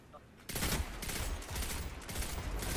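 Sustained gunfire in a shooting video game opens after a short quieter lead-in, a dense run of rapid shots that carries on steadily to the end.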